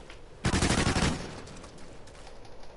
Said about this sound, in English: I like this version of the ARX. It's a fully automatic uh, rifle